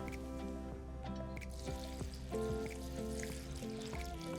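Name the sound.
water poured onto hot peppers for fermenting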